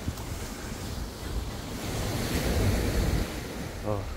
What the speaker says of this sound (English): Oh, those waves sound great.